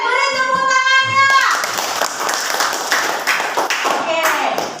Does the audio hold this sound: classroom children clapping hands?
yes